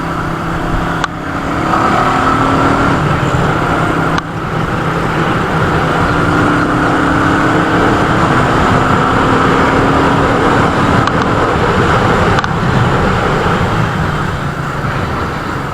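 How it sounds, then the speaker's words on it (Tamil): A 2020 Royal Enfield Meteor 350 motorcycle drones with a steady, deep exhaust note while being ridden, mixed with constant wind rush. Occasional sharp clicks or bumps break through the continuous engine sound. "ஒரு எக்ஸாஸ்ட் நோட்டே பார்த்தீங்கன்னா கொஞ்சம் ரொம்பவே கொஞ்சம் சூப்பராக பேஸியாக இருக்குது"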